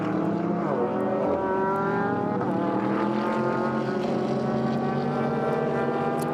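A yellow Get Speed Performance Mercedes race car and other cars drone loudly on the Nürburgring during an endurance race, their engine notes layered into a steady, continuous roar.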